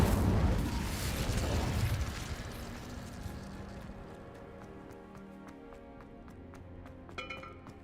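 An Incendio fire spell in a Hogwarts video game bursts out loudly with a roaring whoosh, then fades into crackling and scattered sharp pops.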